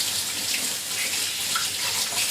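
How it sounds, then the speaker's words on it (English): Tap water runs steadily into a sink while hands are washed, a close, continuous splashing hiss with small shifts in tone and no talk. "I'm going to have to wash my hands off."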